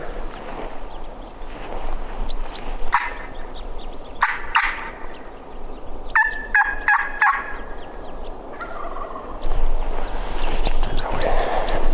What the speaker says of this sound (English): He gobbled on his own.